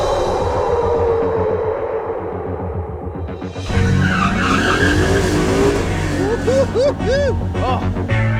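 A drag racing car on drag radial tires does a burnout to warm them, with a loud engine roar and a long tire squeal and screech that rise and waver at close range.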